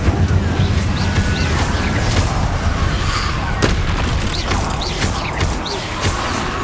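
Incendio fire spells blasting in Hogwarts Legacy, loud continuous roaring bursts with creaks and booming hits layered over game combat noise, with brief shouted spell calls.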